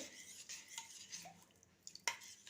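A spoon stirs a ginger and jaggery home remedy in a pot, scraping softly against the metal. Quiet, irregular clinks and rubs lead to a sharper clank near the end, with no voices.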